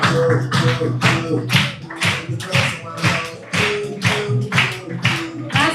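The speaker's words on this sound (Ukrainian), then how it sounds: "Аплодуємо цій людині." At a corporate recognition event, a crowd claps in rhythmic unison for an honoured supervisor. Sharp, regular claps land about twice a second over low background music.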